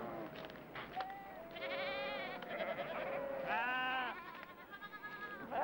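A flock of sheep bleats close by outdoors, several wavering calls overlapping and following one another in quick succession over a faint background.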